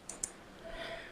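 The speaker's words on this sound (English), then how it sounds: "I'm clicking on the blip video description" Two sharp computer mouse clicks sound close by at the desk, quick and quiet, followed by a soft background hum with no talk.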